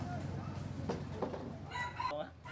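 A white bantam rooster crows once near the end, a short high call rising over a background of voices and household noise.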